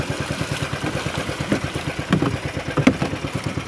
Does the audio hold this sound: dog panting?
no